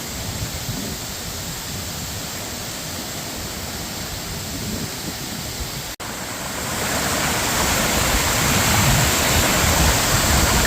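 A waterfall roars in a dense, unbroken rush of white-noise water that grows slightly louder midway, steady and close, with no voices, heard from the foot of the Creissels waterfall after a flood and a freeze.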